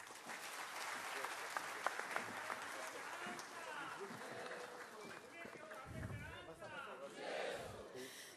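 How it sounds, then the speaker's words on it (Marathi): A seated audience at a centenary celebration gives sustained, dense applause after a speech, filling the hall with steady clapping and a murmur of crowd voices throughout. "जोरदार टाळ्या आणि खरंच खूप खूप आभार"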